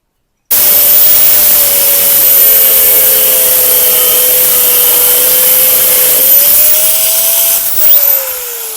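An abrasive power tool cuts metal pieces for a stair-pulling sled runner, a loud, steady close-up hiss and whine that holds nearly nine seconds, with a faint pitch shift near the end.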